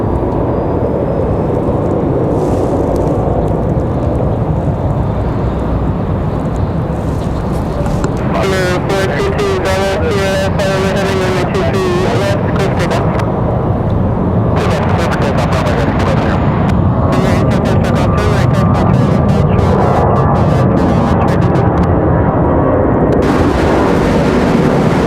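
American Airlines flight 197 jet departs Raleigh Durham International for Charlotte with a loud, rumbling engine roar that builds and holds throughout, overlaid with crackling, burst-like noise.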